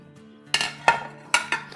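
Mangoes and grapes drop into a bowl in a few distinct clinking knocks, close and clear with brief pauses between them.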